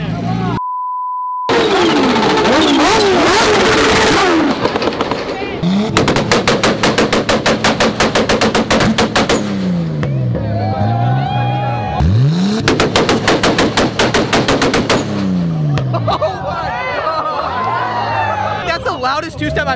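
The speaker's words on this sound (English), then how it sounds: "loudest two-step I've heard." A loud R32 GTR fires two-step launch control at a car meet, its exhaust crackling in rapid machine-gun bursts of pops between revving surges, very close and loud over an excited crowd and someone talking.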